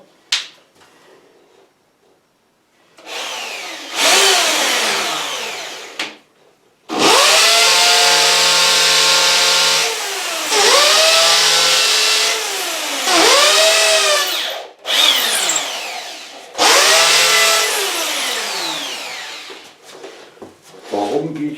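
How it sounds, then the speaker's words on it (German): An electric drill bores a series of holes for an ethanol fireplace installation, each burst loud and close with the motor revving up, whining steadily, then dropping in pitch under load, separated by short pauses and a final brief start. "Warum gehe ich mit dem Bohrer rein und raus?"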